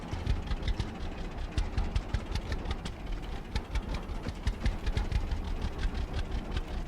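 Tractor engine idling in the farming video game Farmer's Dynasty, a steady low rumble with faint periodic ticking, close and continuous without speech.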